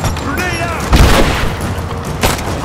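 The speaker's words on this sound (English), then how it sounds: "Don't throw a freaking grenade." A grenade goes off in the video game Rise of the Tomb Raider: a sudden loud boom with a broad noisy burst, then a second, shorter blast near the end, both over a steady bed of game sound.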